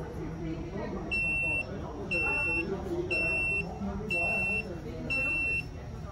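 An electric kids' balance bike beeps five times at a steady rhythm, shrill evenly spaced tones over constant background noise and talking.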